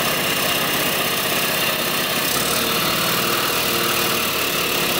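A rare old motorcycle engine with a dirty carburetor running steadily, a loud continuous buzzing, sputtering drone that shifts slightly in pitch partway through, with no voices.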